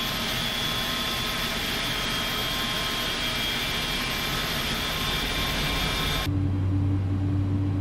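A simulated iniBuilds A300F jet engine in X-Plane 11 roars steadily with broadband whine and tonal hum, then abruptly drops to a lower, quieter drone with a steady low hum near the end.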